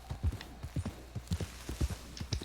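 Horse hooves clip-clop at a steady walking rhythm in the Red Dead Redemption 2 video game, close and moderately loud, with a few faint background sounds between the regular paired hoofbeats.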